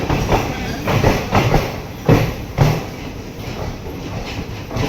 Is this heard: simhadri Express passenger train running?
yes